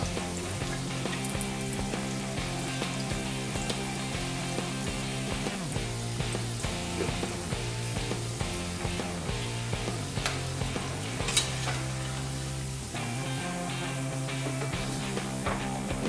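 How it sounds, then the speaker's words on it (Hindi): Moong dal pakodas deep-frying in oil, a fairly quiet, even bubbling sizzle with scattered pops and crackles, steady from start to finish beneath a faint low hum. "ये हम बाकी के पकोड़े भी फ्राई करने के लिए डालते हैं।"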